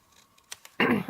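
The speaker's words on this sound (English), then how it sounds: "Just cut off the excess." Scissors snip through excess card stock at a paper-craft desk, a couple of short quiet clicks followed by a louder, brief rustling cut close by.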